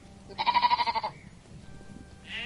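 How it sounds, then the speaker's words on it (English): A single sheep on a farm gives one wavering, close bleat lasting about a second, with its pulsing vibrato clear above a low background, and then the farm goes quiet. "These are my sheep. They are very peaceful animals."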